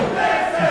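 Crowd at a BHW Lumberjack Match wrestling main event, a steady, dense roar of cheering and yelling that holds evenly for under a second with no clear talk.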